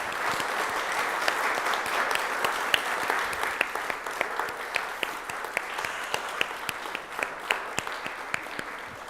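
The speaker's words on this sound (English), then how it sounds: "Please give yourselves a big round of applause." Audience applause at a membership celebration, a dense steady wash of many hands clapping for about nine seconds with a few sharp individual claps standing out near the end.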